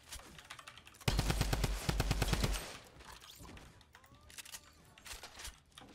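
Rapid automatic gunfire from a Tommy gun in the Fortnite video game, a loud dense burst of shots lasting about a second and a half, followed by quieter game noise and faint clicks.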